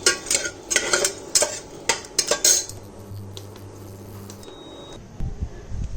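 A spoon stirs whole spices (cinnamon stick, star anise, mace, cardamom, clove and peppercorns) inside a pressure cooker, making loud metallic scrapes and clinks at first, then a quieter low sizzle and a few final knocks.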